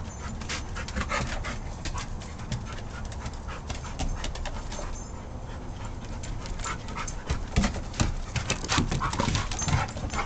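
A dog breathes in loud, rapid, continuous panting close to the listener, steady throughout with no voices.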